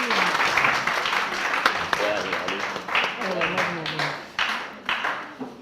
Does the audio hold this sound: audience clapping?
yes